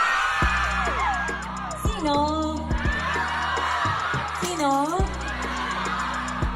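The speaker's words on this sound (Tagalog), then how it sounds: "Depende sa sigaw niyo kung lalabas siya o hindi" A concert audience yells and whoops over music while a host talks to the crowd between songs.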